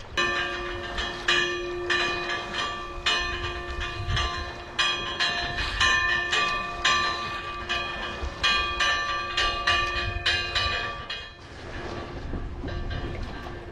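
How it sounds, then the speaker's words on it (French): Bell buoys at sea ring in repeated, overlapping metallic clangs that keep sounding and fade near the end, while a low rumble of wind and water runs underneath. "ce sont les bouées. J'adore quand elles sonnent notre passage."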